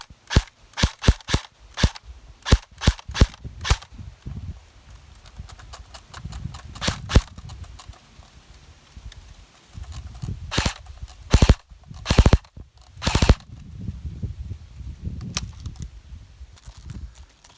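Cyma AKS74U airsoft gun firing 0.20 gram BBs, sharp close pops in single shots and quick bursts, some spaced out and some in rapid clusters, with quieter handling noise between them.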